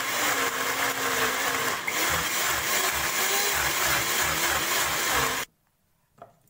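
A mixer grinder blending coconut, coriander and a little water into a fine paste whirs loudly and steadily for several seconds with a pulsing churn, then stops abruptly, leaving near silence.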